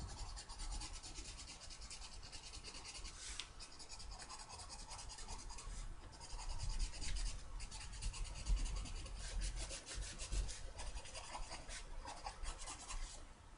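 Old markers drag across paper, making a steady scratchy rasp. The rubbing continues close and fairly quiet for the whole stretch, growing a little louder partway through, with no voices.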